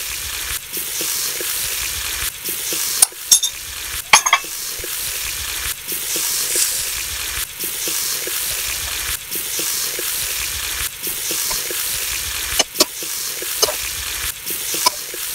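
Chopped green chilies and mashed potato sizzle steadily in a frying pan, with a spatula scraping and stirring in irregular knocks over the constant hiss.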